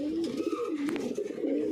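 A pigeon coos in a low, steady rolling tone, close and clear, with a faint brief rustle partway through.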